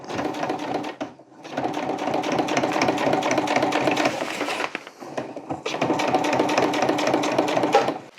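A sewing machine stitches a seam on a lightweight backpack collar, running in long, loud, close bursts of rapid stitching with two brief pauses between runs.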